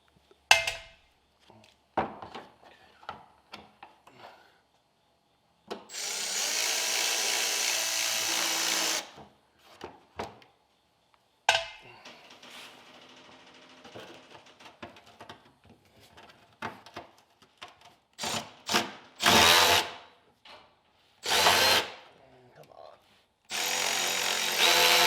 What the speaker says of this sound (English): If you don't have one of these little 1/4-inch ratchet Milwaukee drills, I suggest you get one.